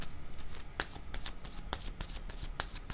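Playing cards being shuffled and drawn for a tarot-style reading, close soft riffling and rustling with a few sharp snaps of cards, no talking.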